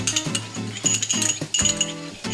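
A metal kadai is handled for a dal tadka, with ghee being added, giving repeated bright clinks and knocks in an irregular rhythm, close and fairly loud, with no talking.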